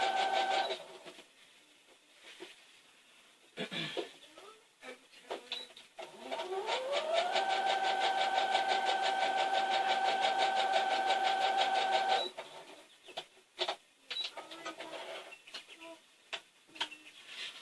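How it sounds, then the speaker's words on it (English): A sewing machine stitching dog food bags together runs in a steady mechanical whir for several seconds, framed by quieter clicks, rustling and handling of the bags before and after. "I'm going to sew 2 of them together. And then I'm going to sew the other 2 together."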